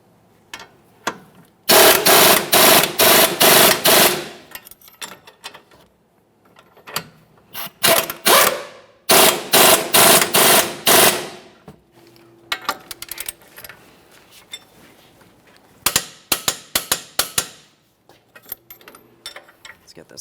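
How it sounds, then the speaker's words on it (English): Power tool bursts tighten the strut mounting nuts on a 2014–2019 Toyota Corolla front strut and spring assembly. Four loud runs of rapid rattling hammering repeat at intervals, with clicks and handling noise between them. "We're going to hold the bolt head and snug the mounting nut."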